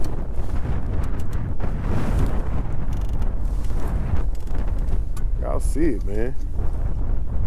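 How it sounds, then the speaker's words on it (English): Loud, steady wind roars and buffets the microphone outdoors on a lake in 25 mph winds, with someone speaking briefly over it. "I mean, it's windy out here."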